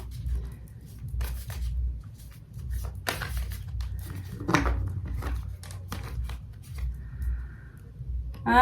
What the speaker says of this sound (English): I want to shuffle a little bit more.